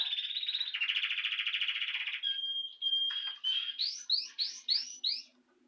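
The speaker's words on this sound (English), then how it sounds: "Yes, my little Pikachu birdie, we all hear you." A small bird chirps up close: a rapid trill of high notes, then a run of separate rising chirps, loud and alone.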